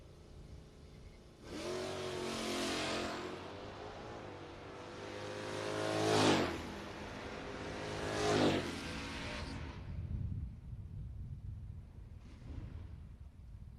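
No-box drag race cars, including a Gen 3 Hemi powered Aspen. Engines roar and rev hard in several loud surges that peak and fade as the cars launch and pass. A quieter blip follows near the end.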